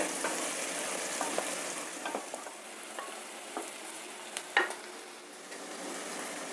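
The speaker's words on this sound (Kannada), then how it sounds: "ತರಕಾರಿಗಳೆಲ್ಲ ಆಲ್ಮೋಸ್ಟ್ ಎಣ್ಣೆನಲ್ಲೇ ಚೆನ್ನಾಗಿ ಫ್ರೈ ಆಗಿ ಬೆಂದ್ಬಿಟ್ಟಿರುತ್ತೆ" Vegetables fry in oil in a pan while premix for upma is being cooked, a steady soft sizzle with occasional stirring scrapes and small pops, close by and with no voices.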